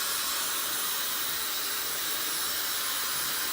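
A hair dryer, a Dyson Supersonic or VS Sassoon model, runs with a constant loud hissing airflow and fan whoosh, unbroken and without speech.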